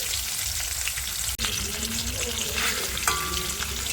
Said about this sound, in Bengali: মাছটা আমরা ভালো করে ভেজে নিই